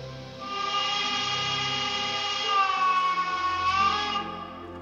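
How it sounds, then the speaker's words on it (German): A long, steady sound-module steam whistle from a Märklin 38201 BR 18 201 express steam locomotive model in H0 scale, one sustained harmonic tone of about four seconds with a slight pitch bend midway, alone and fairly loud. "Dies sind im Einzelnen die Lokpfeife lang,"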